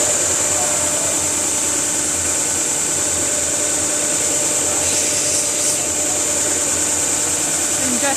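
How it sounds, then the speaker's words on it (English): A sander grinds steadily against the ends of wooden axles for a toy school bus, a loud continuous rushing hum that holds nearly unchanged throughout, with no talk. "we're gonna come over here to the sander"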